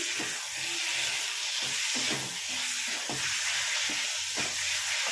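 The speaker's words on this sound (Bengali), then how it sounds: "আলু কষিয়ে নিয়ে আমি ফেরত আসছি" Raw potato pieces sautéing in a pan sizzle with a steady hiss, while low scraping and clatter from stirring recur underneath; nobody speaks.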